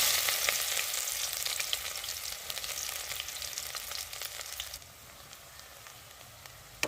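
Sliced onion frying in hot oil with whole cumin seeds for mutter paneer, a steady broadband sizzle that softens slightly toward the end, with a faint clatter at the close and no talking.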